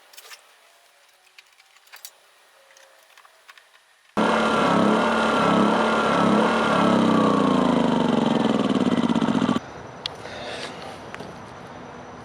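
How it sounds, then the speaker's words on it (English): A Generac 2200i portable inverter generator with a replaced carburetor runs loud and close for several seconds, its engine note wavering and breaking up unevenly before cutting back, with quiet handling noises before and after. "even when I hold the carburetor steady, the engine seems to break up a little bit."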